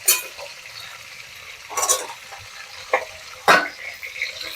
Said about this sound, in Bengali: এক পিঠটা ভাজা হয়ে গেছে আর এই দিকটাও ভাজা হলেই মাছটা ভেজে তুলব।